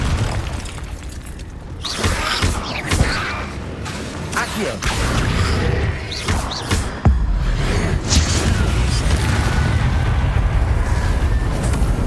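Booming blasts from the Confringo fire spell in Hogwarts Legacy combat erupt repeatedly, with loud whooshes and crashes amid a dense, continuous battle din over several seconds.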